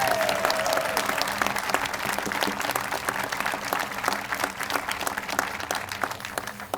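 A crowd at a county courthouse grand opening and ribbon-cutting ceremony applauds, a dense, even round of clapping that carries steadily throughout.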